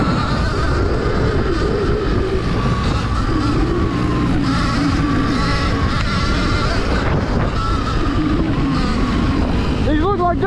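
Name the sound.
Surron Ultra Bee electric dirt bike riding through fields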